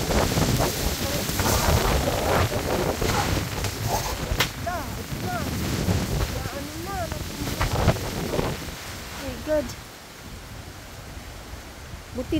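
Strong wind gusts roar across a microphone outdoors in foggy weather near a banana plantation, a continuous rushing buffet with louder surges. Faint bird chirps and brief speech-like sounds come through under the wind.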